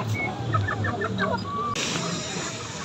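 Aseel chickens cluck close by in a quick series of short calls over a noisy outdoor background.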